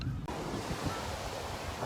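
Ocean surf at a Half Moon Bay beach, a steady wash of breaking waves close by with gusting wind buffeting the microphone throughout, no voices.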